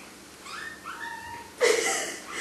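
Three-week-old kittens make several thin, high-pitched squeaks and mewling cries that rise and fall in quick succession, then a louder burst of squealing near the end, close by.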